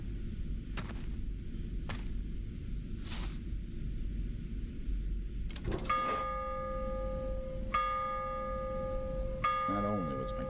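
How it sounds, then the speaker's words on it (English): Bells in The Mothman Prophecy ring out: several faint short strikes early on, then clearer sustained tolls with long ringing overtones, heard over low steady ambient rumble. "That bell rang 3 times, the other one rang once."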